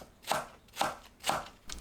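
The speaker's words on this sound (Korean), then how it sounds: "파를 어슷 썰어줍니다" A knife slices green onion diagonally on a board: three crisp, evenly spaced chops close up, then the start of a fourth, with no voices.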